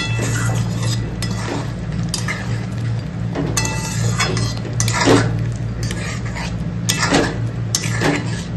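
Chicken leg curry being stirred in a pan: a spoon scrapes and clinks against metal in repeated strokes over a steady stovetop sizzle and hum.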